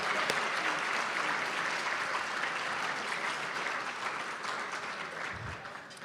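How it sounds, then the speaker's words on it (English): A banquet audience gives a dinner held at the Hilton a sustained round of applause, dense steady clapping that thins a little toward the end. "let's give the Hilton a round of applause for the meal that we just had"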